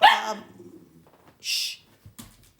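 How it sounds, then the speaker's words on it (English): A dog lets out a loud, sharp bark close by at the start, followed by quieter whimpering, while a person speaks briefly. "sorry, that's my dog."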